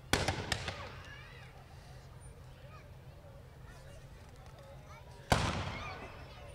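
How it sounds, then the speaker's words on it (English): Gunfighters in the Central Kansas Free Fair Parade fire off a quick cluster of sharp cracks, then after a pause comes one more loud bang. Crowd chatter and voices carry on faintly in between. "You can hear the gunfire going off."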